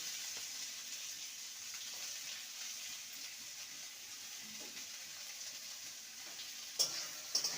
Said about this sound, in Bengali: পেঁয়াজটাকে হালকা ভাজবো